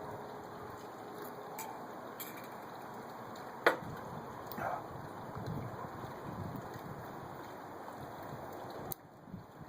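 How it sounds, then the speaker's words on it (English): Steady outdoor wind noise with a broad rushing hiss, a sharp knock partway through, continuing until the level drops near the end. "it is a little bit windy out today."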